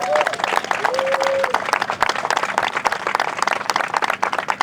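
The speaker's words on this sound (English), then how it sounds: "I'd like us all to give a round of applause for Anne-Marie." Audience at a park dedication for the Canadian Caribbean Association of Halton breaks into warm, sustained applause for Anne-Marie, a dense crowd clapping close by with some voices mixed in.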